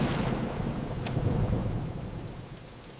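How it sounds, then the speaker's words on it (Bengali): Steady rain with a low rumble of thunder in a Bangla rainy-day cartoon, the downpour loud and continuous throughout and a brief crack of thunder early on. "মাঠের রেস আজ বন্ধ, বৃষ্টি এসেছে"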